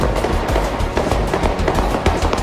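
Dozens of gunshots, at least one from a handgun, ring out on a nightlife street in Philadelphia's South Street area, a dense, loud burst of sharp cracks and bangs over steady street noise.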